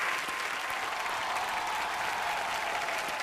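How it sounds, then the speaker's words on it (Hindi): A studio audience on a comedy show applauds loudly for Aishwarya and Irrfan, a dense, steady wash of clapping that fills the whole moment. "एक बार ऐश्वर्या और इरफान भाई के लिए जोरदार तालियां"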